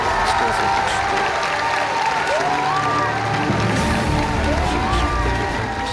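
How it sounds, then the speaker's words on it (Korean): A church congregation applauds and cheers loudly and steadily for a pastor taking the stage, dense clapping with voices rising over it, while a speaker's voice talks over the crowd throughout. "성도들은 사랑과 존경을 담아 힘차게 박수와 환호를 보냈습니다"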